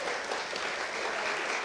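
A concert audience in an auditorium claps in a brief, dense burst of applause, steady and full with no voices over it.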